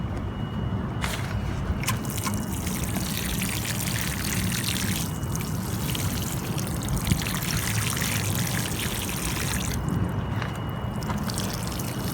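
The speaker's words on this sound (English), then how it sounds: "I'm gonna let the water sink in, and then I'm gonna water again" Water poured steadily around a newly planted organic papaya, a continuous close trickling and splashing that runs unbroken, with no talking.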